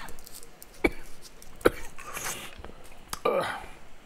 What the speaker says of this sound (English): Let me have one more of these like cough things because I feel a cough coming on